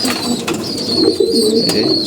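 Low, steady cooing from several pigeons feeding close by, overlapping continuously, with high chirps from other birds in the background.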